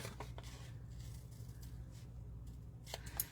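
Scissors snip the corners off a sheet of paper for an expanding file folder, a few quiet close cuts and rustles over a low steady hum.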